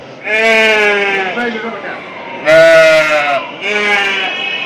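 Several loud sheep bleats close by at a sheep market, wavering and drawn out, with short pauses between calls.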